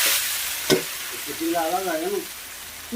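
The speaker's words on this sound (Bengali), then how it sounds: "এই যে চাল কুমড়াটা কেটে রেখেছি ওটা দিয়ে দিলাম, দিয়ে একটু ভেজে" Cut ash gourd frying in a pan with black cumin seed tempering, a soft steady sizzle with one sharp stir scrape and a brief tonal squeak, close by.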